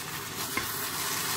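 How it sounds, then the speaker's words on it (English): Jollof rice being stirred from the bottom of a cooking pot, a soft steady scraping and rustle under a faint continuous sizzle, with one brief sharper knock of the spoon midway. "when I want to stir my jollof rice, I stir from the bottom of the pot"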